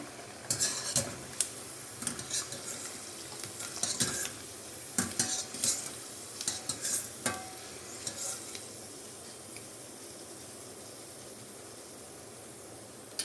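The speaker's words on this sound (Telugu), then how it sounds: "ఈ విధంగా ఫ్రై అయిపోవాలి పల్లీలు" Peanuts frying in hot oil and stirred with a metal utensil: repeated close clinks and scrapes against the pan over a bed of sizzling, easing off into a softer steady fry near the end.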